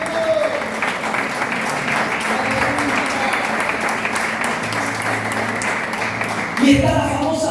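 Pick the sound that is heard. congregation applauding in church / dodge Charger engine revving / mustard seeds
congregation applauding in church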